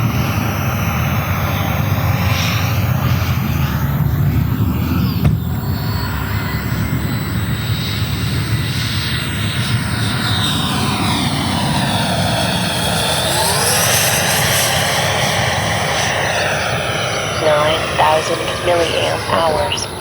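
A Black Horse Viper XL electric ducted-fan model jet with a 100mm WeMoTec Midi EVO motor, a continuous whooshing whine with Doppler sweeps as it passes overhead, loud throughout with wind noise.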